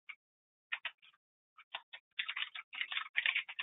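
Keys tap on a computer keyboard, a few scattered clicks and then a quicker run of typing, close and crisp against silence.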